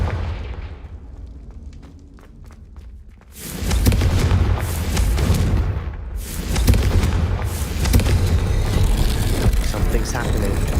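Confringo fire spell explosions in Hogwarts Legacy, loud booming blasts bursting in after a quieter opening and continuing densely, with a player's voice heard alongside.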